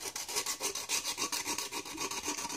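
A nail file rasps rapidly across a handmade Christmas decoration, close and continuous, with brisk even strokes and no voices.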